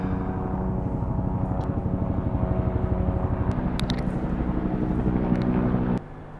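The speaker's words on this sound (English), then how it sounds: "And now there's an helicopter." Helicopter passing over a work site, its steady rhythmic rotor chop droning loudly for about six seconds before fading slightly, with faint clanks of nearby work underneath.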